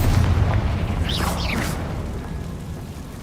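Spell blasts from Bombarda and Confringo in the video game Hogwarts Legacy: a heavy low boom with rumbling mechanical debris, then brief whooshing magical streaks, fading into a quieter tail.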